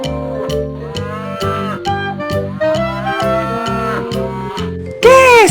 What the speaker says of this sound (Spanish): ¿Cómo hace la vaca?